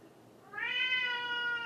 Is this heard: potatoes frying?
no